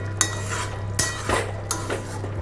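Mango pieces tipped into a pan of Bengali mango chicken curry, with several close, loud clattering scrapes and clinks of a metal utensil against the pan over a low hum.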